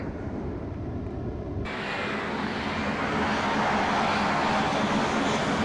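An Airbus A320 lands at Toronto in a flight simulator game, its steady engine and airflow rumble suddenly brightening into a louder, broader rush partway through as the aircraft touches down.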